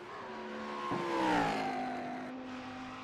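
A Ferrari and a Lamborghini race car engine whine in iRacing at the Nürburgring, a single car sweeping past with a pitch drop, moderately loud.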